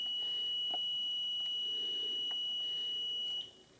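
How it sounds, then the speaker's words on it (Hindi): Short electronic buzzer beeps from an EVM voting machine confirming a cast vote, repeating at intervals over a steady background hum, with a steady high tone running through most of the clip. "बजर साउंड हो गया।"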